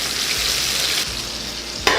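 Salmon heads frying in a pan, a loud continuous hiss of hot oil up close with a few bumps of movement and a sharp clatter near the end, no one speaking.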